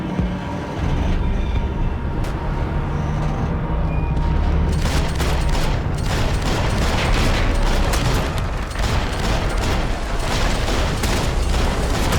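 Dense, sustained gunfire in the Max Payne 3 video game, a long rattling barrage of many overlapping shots over a loud rumbling background, with no clear pauses.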